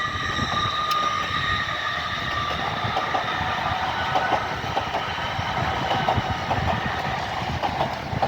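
An LNER Azuma class 801 train rolls through Doncaster station with a steady, close rumble and rhythmic clickety-clack of wheels over rail joints. The sound holds even and loud throughout, with no talking.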